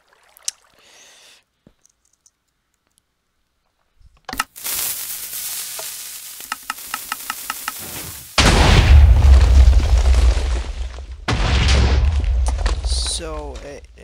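A Minecraft semi-compact hybrid compressor cannon firing sand, heard as sharp booms followed by a rapid burst of clicks, then long, loud rumbling explosion noise that pauses briefly and then resumes, with a voice talking at points.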